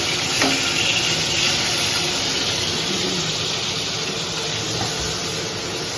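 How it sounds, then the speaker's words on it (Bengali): Hilsa fish frying in oil in a kadai, a steady crackling sizzle that stays fairly loud and even throughout, with no talking over it. "আর এখানে একটা মাছ ভাজা"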